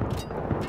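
A grenade detonates in Battlefield 3 multiplayer, a loud, dense blast with rumbling low-end that fills the brief moment, mixed with surrounding gunfire texture.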